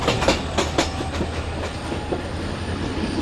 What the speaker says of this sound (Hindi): अरे भाई, पाकिस्तान एक्सप्रेस का GU20 जा रहा है